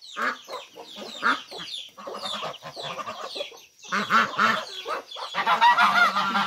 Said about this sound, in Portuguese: Os galos d'água, os patos, os gansos,